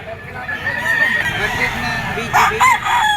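A three-year-old gray sweater gamecock rooster with yellow legs crows in a long, wavering call, fairly close and clear, with faint background voices and farmyard noise.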